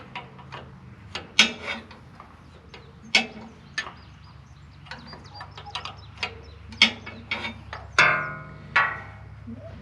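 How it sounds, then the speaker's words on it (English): A stubby 5/8 wrench works on a John Deere 4020 tractor during a pump seal drain line repair, giving a close series of sharp metallic clicks and taps at irregular intervals, with a few longer scraping rasps and no talking. "I need a stubby 5/8 wrench."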